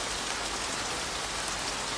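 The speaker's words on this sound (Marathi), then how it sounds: "पावसालाही सुरुवात झाली." Steady rain falls in a dense, even hiss with no breaks, a close and fairly loud downpour used as a storm effect in a fishing-boat tale, with no voices over it.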